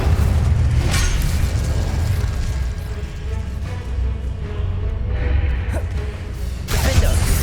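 Casting the Incendio fire spell in Hogwarts Legacy, loud booming bursts and fiery whooshes roll almost continuously over a dense combat backdrop, with sharper blasts near the start and end.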